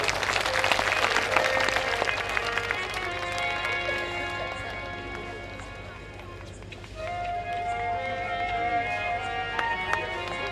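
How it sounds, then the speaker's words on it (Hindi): An audience at a Ram katha wedding celebration in Chittorgarh claps loudly in a sustained burst that gradually thins, while musical tones and chanting-like voices ring out over the applause. "इसलिए जोरदार तालियां आपकी हो"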